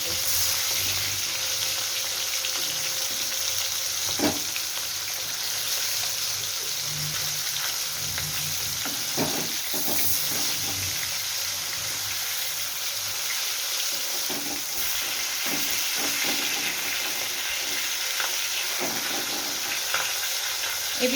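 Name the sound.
rui/katla fish frying in a pan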